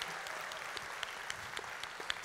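Audience applause at InnovFest unBound 2016, a large crowd of over 6,300 people, sounds as a steady dense wash of clapping with occasional sharper claps, and no talk.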